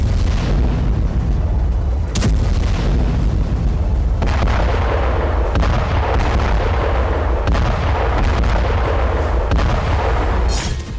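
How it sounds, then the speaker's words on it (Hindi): Artillery fire near the Gaza border comes as heavy, dense rumbling booms that keep blending into a continuous loud roar, with a few sharper blasts standing out over about eleven seconds. "हवा से हमलों के साथ गाजा के करीब तैनात आर्टिलरी से भी प्रहार जारी है।"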